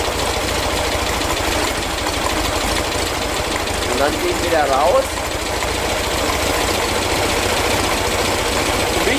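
A vintage car engine idles steadily while its carburettor is adjusted, a continuous low rumble running throughout with a brief rise in revs near the middle, under a man's speech.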